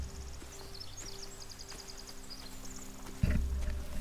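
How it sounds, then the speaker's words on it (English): Horses in The Walking Dead video game give faint, intermittent clip-clop hoof sounds and soft stirrings over a low ambient drone, with a louder thump near the end. "They have horses."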